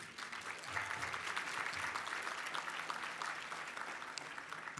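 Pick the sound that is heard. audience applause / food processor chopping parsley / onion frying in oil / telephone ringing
audience applause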